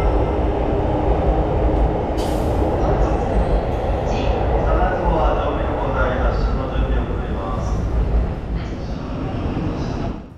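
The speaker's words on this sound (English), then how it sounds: "Our train is a JR Series 285, the only multiple unit double-decker sleeper train in the world." A JR Series 285 double-decker sleeper train rumbles steadily along the rails in Japan with a dense low roar and occasional higher rattles, while a voice talks over it throughout.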